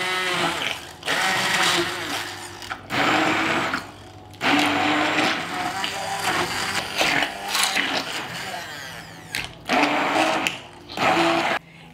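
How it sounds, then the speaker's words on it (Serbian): An immersion blender purees cooked liver with melted butter into pâté, running in loud whining bursts of a second or two separated by short pauses, close up with no talk. "i sve ću to izmiksati sa štapnim mikserom"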